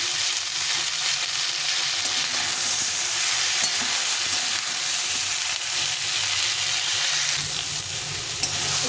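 Potatoes and cauliflower sizzling in hot oil in a pan while radish is added and stirred, a steady broad hiss with occasional scraping stirs, close and moderately loud, no talking.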